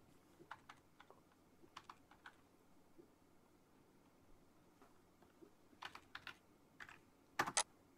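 Keys clatter on a computer keyboard running Windows Vista, arriving in short irregular bursts of clicks that grow louder near the end, with faint room noise between them and no talking.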